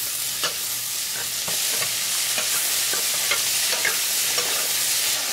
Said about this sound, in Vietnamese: Rồi đến nấm, xào sơ như vậy giúp rau củ thơm hơn khi hầm đó các bạn.